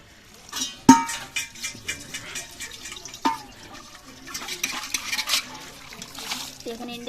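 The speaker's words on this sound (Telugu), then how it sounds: "ఈరోజు రాగి బిందు తీసి మంచినీళ్ళు పడుతున్నాను" Drinking water runs and drips into a copper pot, with a few sharp metallic knocks against the vessel and a light, uneven splashing throughout.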